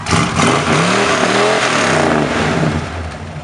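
Loud, steady running of a 1974 Dodge Monaco's engine fitted with new mufflers, with a brief rev near the start before it settles and eases slightly toward the end.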